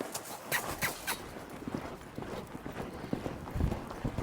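Hooves of a roping horse in training pound the ground in quick, irregular thuds, close and fairly loud, with clattering impacts spread across the whole stretch and no voices.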